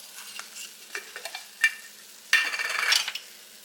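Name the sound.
stirring pancake batter with vanilla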